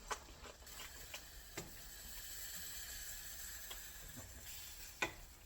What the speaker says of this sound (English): Season up that cheese. Give it one final stir.